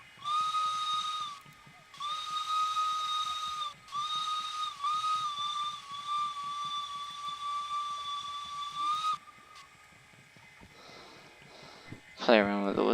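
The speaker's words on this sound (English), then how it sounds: "Play around with the whistle." A steam locomotive whistle on an S282 engine in the video game Derail Valley sounds in several long, shrill blasts separated by short gaps, over a steady hiss, followed by a brief clatter at the end.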